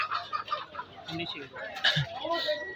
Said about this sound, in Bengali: এখানে দেশি বিদেশি সব ধরনের মুরগি পাওয়া যাচ্ছে লেয়ার মুরগি ব্রয়লার মুরগি সাথে থাকছে সোনালি মুরগি